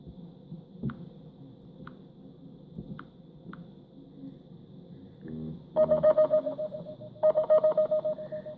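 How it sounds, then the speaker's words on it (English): Cellphone text message notification alert chiming twice in short bursts of rapid repeated tones, clear and close, after a few quiet taps. "Now I'm going to do a test text message to see if I can hear any sound."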